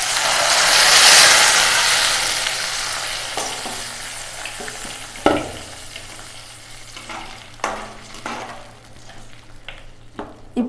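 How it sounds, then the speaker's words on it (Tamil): Lemon juice poured into a hot pan for lemon rice, a loud hissing sizzle that fades into a softer crackle, broken by a few sharp clatters of stirring, close up with no voices. "நம்ம இப்போ அந்த எலுமிச்சம்பழம் சாறை ஊற்றிக்குவோம்."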